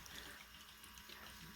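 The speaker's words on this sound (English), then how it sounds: "the working water fountain" A miniature working water fountain in a Christmas Snow Village display trickles with a steady, soft, continuous splashing, faint and alone.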